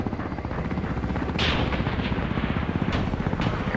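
Enemy gunfire in the video game Carrier Command 2 cracks sharply a few times over a loud, steady engine or rotor drone.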